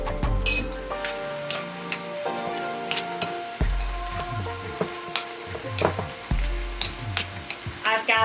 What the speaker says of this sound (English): I've got the vegetables here sizzling.